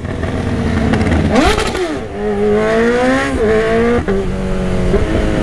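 Honda CB1000 motorcycle with a remap, quick shifter and sport exhaust, revving hard and climbing through quick upshifts, with loud rising engine pitch and brief cuts at each shift, close and with no voices.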